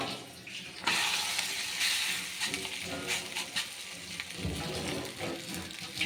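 Oil is poured around a millet adai cooking in a pan. A soft, continuous hiss and sizzle swells as the oil hits the hot surface, steady and fairly close, with faint clinks near the end.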